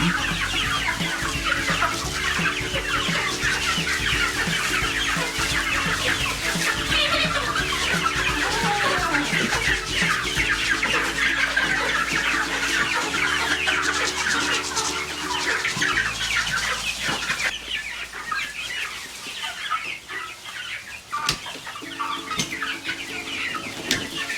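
A flock of chickens clucks continuously inside a shed converted into a coop, with overlapping close and farther calls that thin out near the end.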